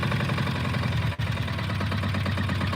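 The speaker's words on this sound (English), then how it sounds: "I'm trying to keep the idle low." An ATV engine idles low and steady close by, a throbbing rhythmic chug that dips for a moment as if nearly stalling before it carries on.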